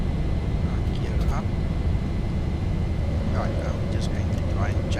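A Ryanair airliner takes off in a virtual flight simulator with a loud, constant engine roar and rumble throughout, while faint voices talk underneath.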